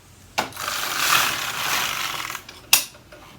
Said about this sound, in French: lorsque je vais repasser mon chariot